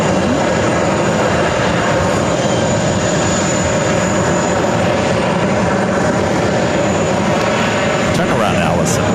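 A British Airways Boeing 777-300ER jet roars close overhead on short final to runway 31 right at JFK, a loud sustained engine rumble and whine that fills the whole stretch, with people talking beneath it.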